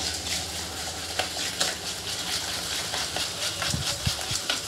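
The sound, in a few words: whisking cake batter with sugar in a bowl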